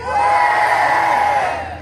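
A concert audience in Pierrefeu roars and shouts back at a performer's greeting, a loud sustained crowd cheer that swells and fades over about two seconds.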